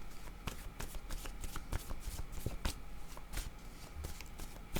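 Playing cards being handled and shuffled up close, a steady run of crisp riffling and flicking sounds with sharp snaps, fairly quiet and without talk.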